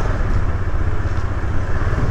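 A small motorcycle's engine runs close by with a continuous low, throbbing rumble at steady speed for a couple of seconds, heard alone without talk.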